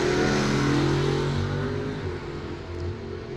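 A drag strip launch at a bracket race, an Oldsmobile Cutlass beside a 1940 Willys Coupe, loud throbbing engine roar close by that holds steady and then eases slightly as the cars pull away.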